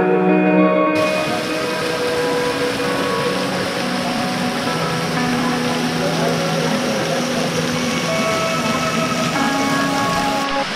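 Natural waterfall at the Pandav Caves in Madhya Pradesh, water pouring down from above after rain, a steady loud broadband rush that fills the whole clip alone, with a brief quieter moment at the start.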